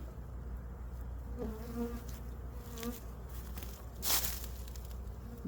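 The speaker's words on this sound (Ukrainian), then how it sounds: "Бджоли проснулися" A low, continuous buzz of many honeybees flying close by a hive in early spring, with individual insects droning past and a faint rustle in the background.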